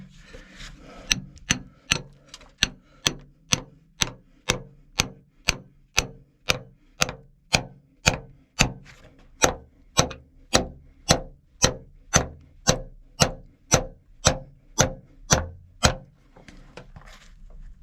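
Steel feathers and wedges driven into stone with a hammer, a long run of evenly spaced sharp metallic strikes, about one blow per half second, close and loud.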